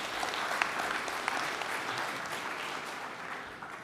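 Steady, fairly faint round of applause from an audience at an Indigenous clean energy forum, honoring a panel; dense even clapping that tapers off near the end.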